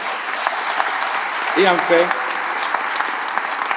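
Sustained crowd applause at a museum inauguration ceremony, dense and even clapping throughout, with a voice briefly heard over it midway.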